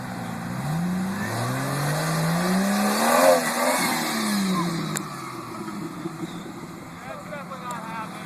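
A 1996 Jeep Cherokee drives off-road, its engine rising and falling through loud revs with a rumble close by, as people talk over the noise.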